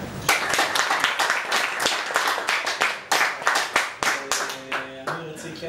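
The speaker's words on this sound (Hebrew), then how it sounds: "אין מחיאות כפיים לדודי" Hands clap in a press conference room: rapid, close, uneven applause that builds and thins, with a few louder single claps toward the end and a faint tonal sound under the final seconds.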